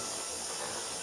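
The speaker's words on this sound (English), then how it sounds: "There's actually a jet of steam coming out of that nozzle." Steady hiss of steam jetting from the vent nozzle of a pressure canner while it processes chicken stock, a continuous close rushing sound with a faint high whistle and no talking.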